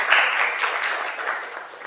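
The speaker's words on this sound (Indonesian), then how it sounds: "Tepuk tangan untuk kita semuanya" Brief burst of applause from a classroom of students, a steady dense patter of clapping lasting under two seconds and fading slightly toward the end.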